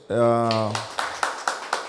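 After a short vocal sound, an audience gives a few sparse, evenly spaced claps that are moderately close and fairly thin rather than a full ovation.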